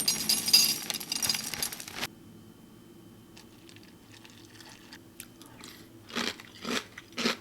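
Crunchy chewing of Rhett and Link's Mish Mash cereal, peanut butter and honey sandwich flavor, close to the mic: a dense burst of crisp bites, then a quiet pause before a few more crunches near the end.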